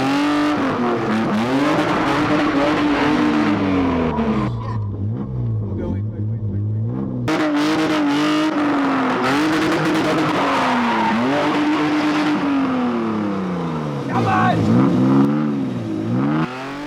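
A car spins through a practised stunt, engine revving hard and rising and falling in pitch while tyres skid and squeal, loud and close throughout. People talk over the engine at moments.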